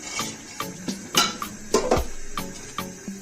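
Salt gets mixed into cauliflower florets in a bowl, a spoon tapping and scraping against the sides in a steady rhythm of close, sharp clinks, with no voices.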